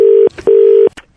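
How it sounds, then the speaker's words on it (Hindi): Phone line disconnect tone after a call is hung up: two loud, clean electronic beeps, each a steady tone lasting about a quarter to nearly half a second, separated by a short gap, with faint clicks after. "तूने फोन काट दिया"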